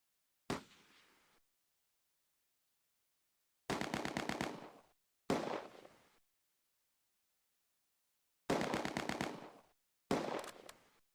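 Bren light machine gun bursts in a Close Combat wartime firefight, Oosterbeek setting: five separate rapid automatic bursts, loud and close, each about a second long with silence between, no voices.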